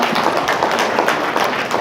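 Audience applause at a Seocho district chapter meeting of the Korean women's political league, honouring guests asked to stand: a dense, steady wash of many hands clapping, close and loud, with no pause.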